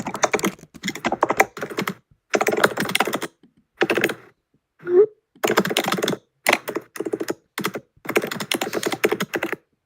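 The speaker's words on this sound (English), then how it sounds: "You're typing very loud." Loud clattering bursts of keyboard typing in quick runs, separated by short pauses, close to the microphone.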